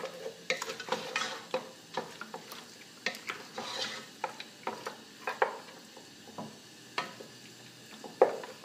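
Meat curry with garlic paste cooks in a pan over a full flame. A spoon scrapes and stirs in frequent irregular strokes over a light frying sizzle, close by and without any voices.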